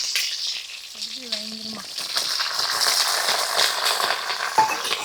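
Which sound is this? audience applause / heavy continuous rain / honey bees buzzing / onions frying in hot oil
onions frying in hot oil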